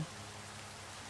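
Rain falls steadily in the video game CC:Endventure, a soft, even patter that stays faint and uniform through the short stretch with no talking.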